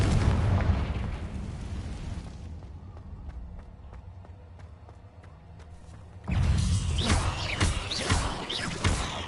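A Confringo spell explodes in Hogwarts Legacy combat, a heavy booming blast up front that dies into a quieter rumble, then another loud crackling burst erupts, no talking.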